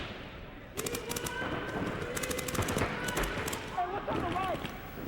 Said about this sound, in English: Colt Roberts shooting down the wire